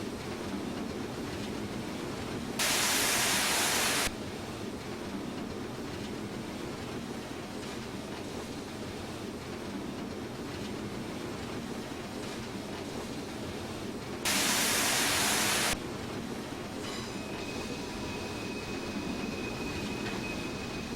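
A BR86 locomotive runs steadily in Train Simulator 2016 on the Mannheim–Karlsruhe line. A constant broad rumble and rail noise carry throughout, broken by two short hissing bursts.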